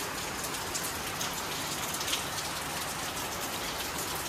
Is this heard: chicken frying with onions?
no